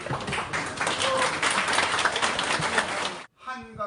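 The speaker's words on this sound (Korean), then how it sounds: "일본을 설득해야 한다고 말하자 이장들의 박수갈채가 쏟아집니다" Village heads clap in steady applause at a meeting in Chungju, a dense patter of many hands lasting about three seconds before cutting off into a brief voice.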